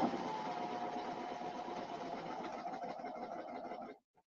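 A Brother Airflow serger stitching fabric pieces runs as a steady close mechanical whir for about four seconds, then stops abruptly, with a brief faint clunk afterward.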